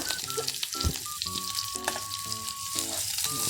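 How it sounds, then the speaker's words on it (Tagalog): Hot oil spatters loudly as a girl fries food, a dense continuous sizzle with pops, overlaid by tonal squeaks and clatter of a utensil stirring in the pan. "Okay, magatalsikan yan ha. Layo ka sa mantika."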